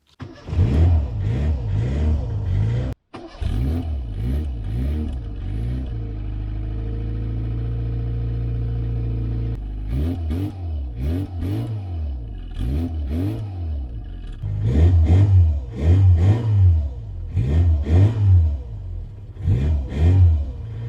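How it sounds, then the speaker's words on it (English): A car engine cranks and catches, settles into a rough idle, then revs repeatedly in loud, rising and falling bursts close by. "the engine sound is so much better than pretty much any music that you can find on this"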